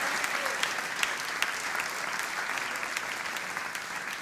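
A theatre audience at the Teatro Oscar applauds a rapper, a loud, dense sustained roar of clapping with a few sharper individual claps standing out, and no speech over it.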